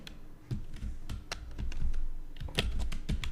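Fast, close clacking of keys on a computer keyboard in an irregular rhythm, a quick run of keystrokes with a few louder taps.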